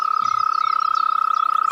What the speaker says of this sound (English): This is a toad.